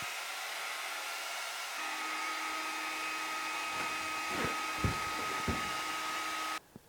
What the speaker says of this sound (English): I'm going to get out the hairdryer and have a go heating it up